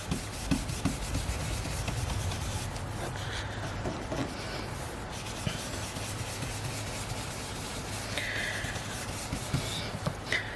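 A blending brush rubs soft suede ink onto card in a continuous close, scratchy scrubbing with small taps and bumps, quiet and without talk.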